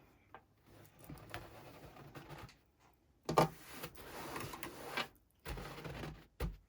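A sewing machine stitches a fabric microwave rice heat pack in quiet, uneven bursts of ticking and whirring, separated by brief pauses and handling noises, with no speech.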